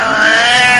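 A cat meows in one sustained, loud, close-up cry with a slightly strained, caterwauling tone, alone with no talk over it.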